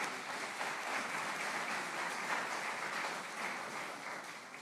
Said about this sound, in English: warm round of applause for Minister Niale Kaba, Minister of Planning and Development of Côte d'Ivoire